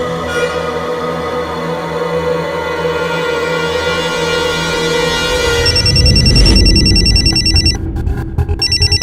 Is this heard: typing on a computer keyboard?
no